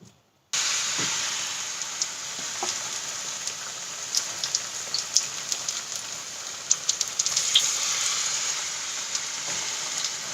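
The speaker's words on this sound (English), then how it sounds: "Going to continue frying." Sweet potato fritters fry in hot oil, a steady bright sizzle with scattered pops and crackles, loud and close, with no talking.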